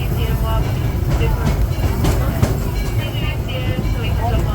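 Disneyland Railroad train rolling into Tomorrowland Station, a steady low rumble of wheels and carriages with faint clacks over the top, heard close and continuous without talk.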